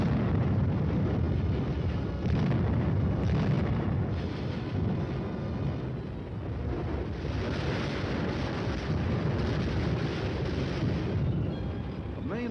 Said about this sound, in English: At the Artillery Fire Direction Center, the firing data is prepared and the guns respond.